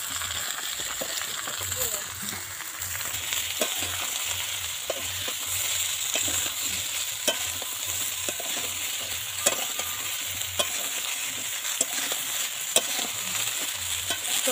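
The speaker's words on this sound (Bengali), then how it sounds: "পেঁয়াজ ভাজা হয়ে গেছে, এবারে সব সবজিগুলো দিয়ে দিলাম" Pointed gourd and potato pieces fry in a pan over browned onion, with a steady sizzle throughout and repeated scraping, clattering stirs at an even rhythm, heard up close and alone.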